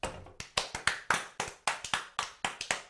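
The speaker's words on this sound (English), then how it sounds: "Round of applause." A handful of people clap at an event in a hall, about a dozen sharp, separate claps in an irregular rhythm, close and distinct rather than a dense crowd ovation.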